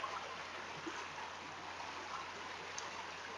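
A creek flowing steadily over rocks, a continuous broadband wash of water that stays even and close throughout, with no voices.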